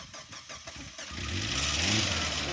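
An old Suzuki Tracker engine, left sitting for at least a year, cranks with rapid starter pulses for about a second, then catches and settles into a loud, steady running roar heard up close.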